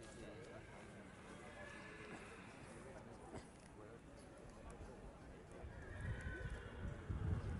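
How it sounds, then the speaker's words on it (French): A horse entering the show ring at the 2010 AQPS breeding show in Decize whinnies, with hoof clatter growing louder toward the end, all under steady announcer speech and ring ambience. "Alors un nouveau cheval est apparu dans le ring A."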